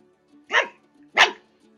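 A dog gives two sharp barks about half a second apart, fairly close and loud, with near silence between them and no talking.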